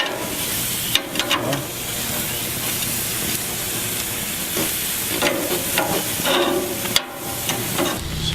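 Food flipped in a frying pan, a constant close hiss and sizzle broken by a few scraping clatters, with one short spoken word.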